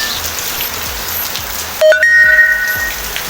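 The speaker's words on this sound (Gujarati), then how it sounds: "ઘરે છે ને વરસાદ જોવો છે ને કોરે મોરે વરસાદ ચડી રહ્યો છે।" Rain falls outside a house in a steady, close hiss of drops on surfaces, with a brief tonal chirp or whistle cutting in about midway.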